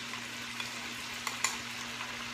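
Hot pan frying garlic that has been returned to it, giving a steady, quiet sizzle with a few light clicks of stirring, and no voices.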